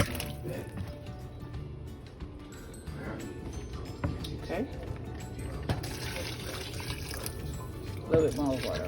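Water poured into a simmering pot of butter beans with okra, a steady low splashing and trickling that runs the whole time, with a few brief clinks near the end.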